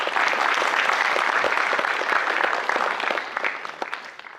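Audience at a talk in Guwahati applauding, steady dense clapping that fades out toward the end.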